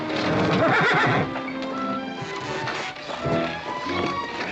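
A horse whinnies loudly up close, followed by clip-clopping hooves and shuffling movement.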